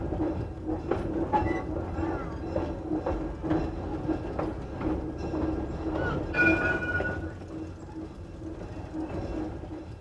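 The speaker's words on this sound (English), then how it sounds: "The yard is chock full of these Plymouth switchers." Plymouth switcher locomotive working a rail yard, a steady rumbling run with clattering wheels and a brief squealing tone midway, the sound continuous and fairly close.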